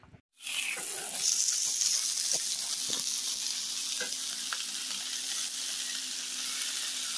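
Ribeye steaks sizzle loudly and continuously in a pan with beef tallow, a steady close-up hiss after a brief quiet start, with occasional faint pops.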